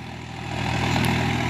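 A Swaraj 4x4 tractor engine runs close by at a steady idle, a deep, even rumble that swells slightly partway through, with no voices.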